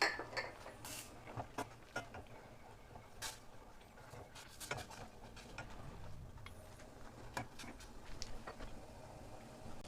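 A spoon clinks and scrapes against a pot while chili dipping sauce is stirred, a series of faint, sparse metallic taps over a low background hum.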